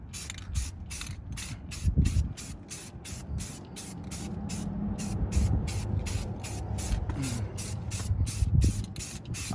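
A spray paint can sprays brake calipers in short, rapid, regular bursts of hissing, a quick rhythmic series of sharp sprays close by, with low background rumble.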